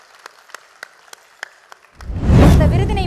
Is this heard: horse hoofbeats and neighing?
no